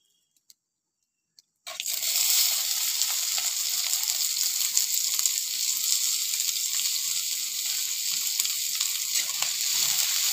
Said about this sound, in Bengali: পেঁয়াজটা আমি ভালো করে লাল করে ভেজে নেবো।